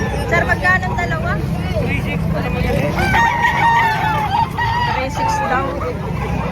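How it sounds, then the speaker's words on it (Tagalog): Roosters crow repeatedly at a busy chicken market in Padre Garcia, Batangas, their rising calls carrying over constant crowd chatter, people talking nearby, and low background rumble. "Ang daming murang manok dito."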